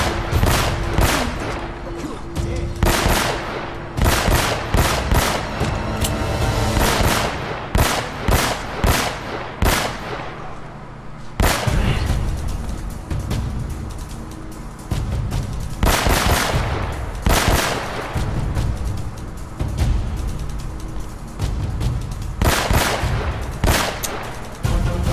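Pistol gunfire rings out in Uncharted: Drake's Fortune, a long firefight of loud, sharp shots in quick bursts and scattered single cracks, some overlapping like rapid exchanges, continuing steadily throughout.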